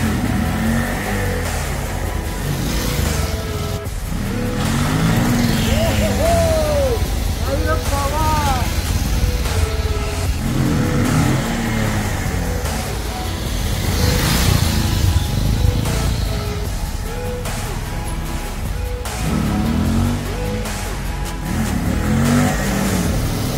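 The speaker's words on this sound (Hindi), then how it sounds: "आप लोग देखो व्हीली करता हूँ मैं ट्रैक पे" A motorcycle on a practice track revs hard during wheelie stunt training, its engine loud and close, surging and falling in repeated throttle bursts with rising and dropping pitch over steady wind and road noise.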